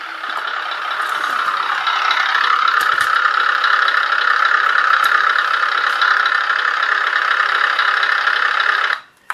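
Beier MSM-1 sound module in a 1/14 Tamiya Grand Hauler RC truck playing a truck engine, a loud steady rumbling idle with a slight dip in pitch early on, running evenly before cutting off abruptly at the end.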